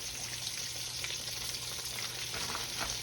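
Green tomato slices frying in hot grease, a steady soft crackling sizzle with faint pops, close by and continuous with no voices over it.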